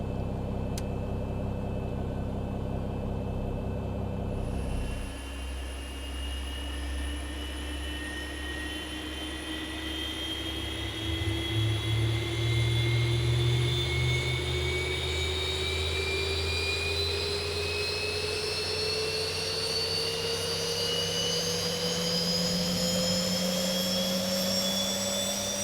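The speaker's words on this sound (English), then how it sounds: "we're going to go ahead and start the engines now" A Boeing 737 jet engine spooling up during engine start in X-Plane 11, a steady hum giving way to a rising whine that climbs slowly in pitch over a broad, loud rushing roar, continuous with no voices.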